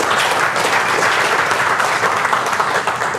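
Audience at a seminar gives a loud, dense round of applause, continuous clapping close and full for the whole stretch with no talk over it.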